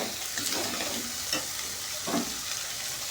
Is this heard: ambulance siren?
no